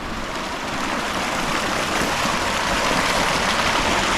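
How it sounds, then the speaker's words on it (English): Flowing stream water beside a trail at Taylor Lake in Banff National Park, a steady broadband rush, loud and close, unbroken for the whole stretch with no talk. "I hear water! I hear water, so I gotta check it out."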